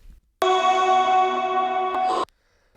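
A sustained, processed female pop vocal tone swells in abruptly, rings with heavy reverb and chorus-like shimmer, then cuts off sharply after a brief chopped flutter.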